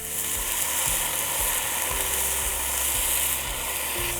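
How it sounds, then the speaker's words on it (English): Steady loud sizzling of vegetables frying in a hot pan as about a cup of wine is added, with a rhythmic low clunking of stirring or a scraping utensil throughout. "that's going to arrest the frying process"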